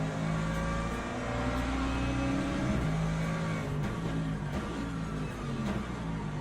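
A hypercar engine in the Le Mans Ultimate racing game holds a steady, loud mechanical drone for the whole stretch, with faint pitch shifts as it runs and no voices over it.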